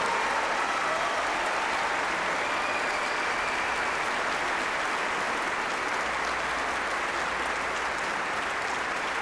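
Loud, sustained applause from a concert audience at an orchestra's children's music performance, a dense, even wash of clapping that holds steady for the whole stretch without talk.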